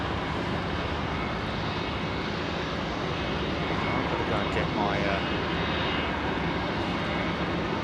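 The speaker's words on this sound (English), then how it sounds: "We have seen an Airbus A300 600 with FedEx 1." A FedEx Airbus A300-600 jet passes at a distance, its broad, steady roar swelling slightly midway and staying fairly faint throughout.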